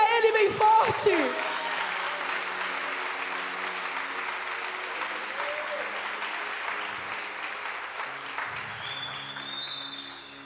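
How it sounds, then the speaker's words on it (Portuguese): A church congregation applauds loudly and steadily for about ten seconds, a dense sustained wash of clapping that fades slightly toward the end, with brief voices and music tones near the start. "será que você pode aplaudir a Ele bem forte?"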